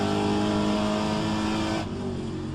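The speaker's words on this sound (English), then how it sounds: "I think now the car is too loud." Loud, steady Trans-Am race car engine drone in the rFactor 2 racing game, with a sustained high whine, close and continuous, easing slightly in level near the end.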